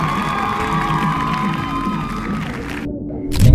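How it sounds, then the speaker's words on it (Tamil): Street festival crowd cheering and shouting with some applause, a steady dense roar of many voices that swells toward the end. "ஒரு பெரிய கைத்தட்டல் ப்ளீஸ்"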